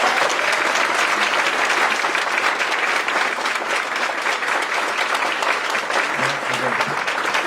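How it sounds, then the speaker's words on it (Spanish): An audience at a talk breaks into strong, steady applause for the speaker, a dense wash of many clapping hands that holds at full loudness throughout, with a brief low murmur of voices near the end. "pues un fuerte aplauso para el doctor"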